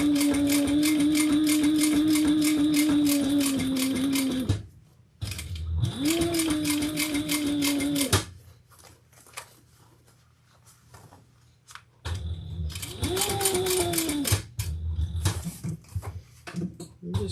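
A home sewing machine top stitching a Louie waist pack, running in long steady motor whirs with short stops and restarts, close and loud, no voices over it.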